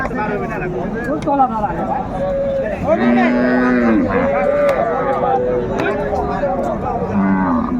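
Cows at a busy village cattle market moo repeatedly in long, loud, wavering calls, close and overlapping, over a constant crowd babble.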